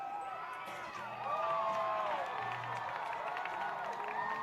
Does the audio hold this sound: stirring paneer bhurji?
no